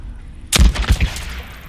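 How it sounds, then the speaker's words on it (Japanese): A landmine blast inside a barn in the video game Days Gone: a sudden loud explosion after near silence, followed by a second rumbling burst and a decaying, crackling tail. "あそこに以前地雷を仕掛けておいたままだったので偶然ですけど今爆発しましたね"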